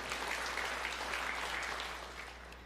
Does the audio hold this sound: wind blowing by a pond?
no